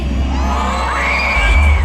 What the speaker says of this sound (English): Let me hear a loud scream, for that is what's needed to summon Halloween!